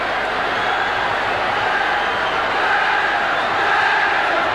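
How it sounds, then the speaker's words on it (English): Rugby league crowd roaring at a Wigan v Manly match in the final minutes, a continuous loud wall of cheering and chanting from a packed stadium. "And listen to this crowd."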